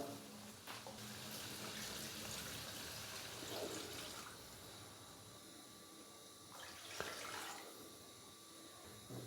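Water being poured from a glass into a pan of roasted chicken gizzard masala, a continuous splashing, gurgling flow with a brief pause and second pour, close and fairly soft.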